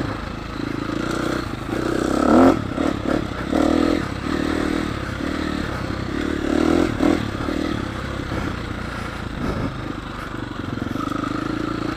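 A KTM 350 enduro motorcycle rides a trail, its engine surging and dropping in repeated bursts as gears change, with rattles and scrapes of the ride mixed in, continuous and fairly close.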